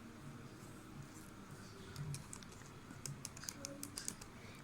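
Password hint typed on a computer keyboard: soft, quiet clicking keystrokes in short irregular runs, thickening toward the end, over a faint steady room hum with no talking.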